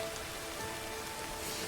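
Rain in an anime episode, a continuous dense patter of drops on surfaces with faint tonal background underneath, steady throughout with no speech.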